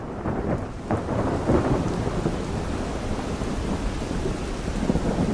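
A Krotos Studio thunder effect rumbles low and steady through a heavy rainstorm, with dense rain hiss and rolling thunder swelling near the start and again around the middle, no voices present.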